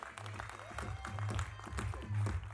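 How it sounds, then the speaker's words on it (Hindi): A crowd at a song launch event claps steadily throughout, a dense wash of applause with some cheering and a low hum underneath. "जोरदार तालियों से स्वागत कीजिए"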